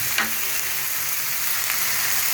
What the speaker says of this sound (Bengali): এখন ভালো করে নাড়াচাড়া করে 2-3 মিনিট একটু ভেজে নেবো